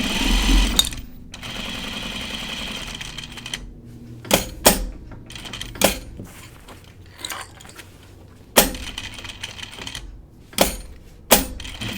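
A sewing machine double stitches a jacket seam in short whirring runs, broken by several sharp clicks and clunks from the machine between bursts of stitching.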